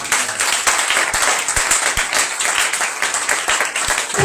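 A church congregation applauding in acclamation of the Lord Jesus during a Purim 2025 sermon gathering; dense, sustained clapping from many hands, loud and close.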